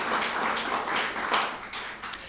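Audience applause fills a legislative meeting room in a steady, dense wash of many hands clapping at once, moderately loud and continuous throughout without letting up.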